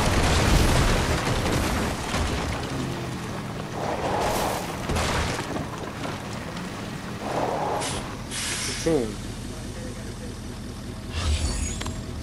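Gunfire and blasts in a Fortnite trios match, heavy crashing bursts and booms recurring through the clip over a dense game soundscape, with players talking over the action.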